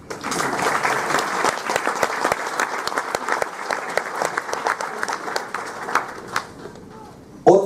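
Audience applause at a Spanish-language talk: a room full of clapping that swells and holds for several seconds, then thins to scattered claps before a brief louder sound at the very end.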